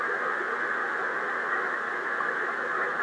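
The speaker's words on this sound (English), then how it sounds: "You can hear it here, a little static." Steady hiss of static from an amateur radio receiver tuned to 7133 on the 40 meter band, played through a Clearspeech speaker, a constant even noise with no voices or signals.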